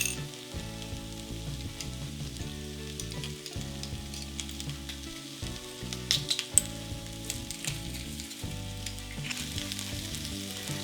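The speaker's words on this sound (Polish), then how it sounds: "Warzywa doprawiłam jeszcze lubczykiem i będę je smażyć ze sobą około 10-15 minut." Vegetables seasoned with garlic and lovage fry in a pan, giving a quiet, steady sizzle broken by occasional stirring clicks, with no voices.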